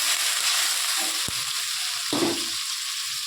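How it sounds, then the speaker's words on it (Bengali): A pan of egg curry masala fries with a constant hiss, broken by a sharp knock and then a brief surge of spitting sizzle as water hits the hot spices. "এবার জল ঢেলে দেবো"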